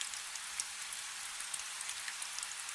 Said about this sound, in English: You can hear the soft patter of rain beginning to fall on the leaded roof above the arcade